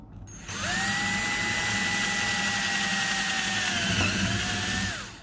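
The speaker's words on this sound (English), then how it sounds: "we're just going to do a simple drill test on a couple 3D printed parts" A power drill whines steadily for several seconds, boring into an ABS 3D-printed plastic part, its pitch dipping briefly near the end before it winds down, loud and close.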